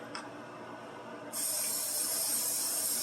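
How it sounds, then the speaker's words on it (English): After a brief quiet moment, a cooking oil spray can releases a steady, loud hiss onto a frying pan that continues without interruption. "Make sure it's nicely sprayed and buttered so nothing sticks."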